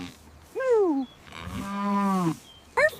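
Cartoon cows give two drawn-out, falling moos and the start of a third, loud and close with nothing else over them.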